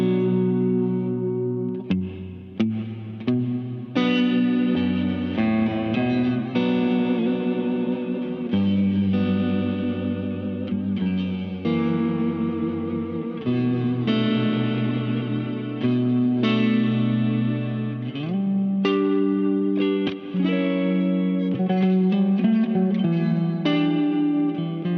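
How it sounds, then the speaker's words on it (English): Electric guitar played through a Crazy Tube Circuits Mirage reverb pedal set to modulated reverb, sustained chords and notes trailing into lush, shifting, wavering tails, loud and continuous. "Modulated reverb tails, lush, fluid, and consistently shifting beneath your sound"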